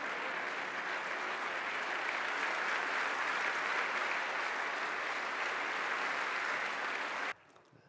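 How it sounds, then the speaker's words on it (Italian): Loud, even applause from an audience at an Italian economy and development awards event, dense steady clapping that stops abruptly near the end, leaving quiet room tone. "Lo facciamo ancora con un applauso."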